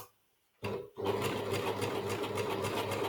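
A sewing machine stitches the seam of a blouse sleeve. After a brief short burst and a pause it settles into a steady, close, rapid mechanical whir of stitching.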